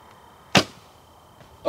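A single arrow loosed from a bow strikes a target with one sharp, close thud, followed by faint quiet and a softer knock at the end.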